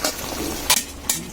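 A spatula mashes boiled pineapple pieces in a pan for a pineapple chutney, giving two short, sharp scraping knocks against the pan over a soft background hiss.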